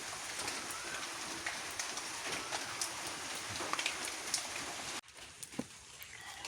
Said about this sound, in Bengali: বৃষ্টি ছাড়তেছে না এত বৃষ্টি